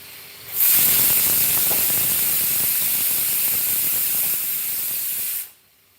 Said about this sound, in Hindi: कुकर की सीटी।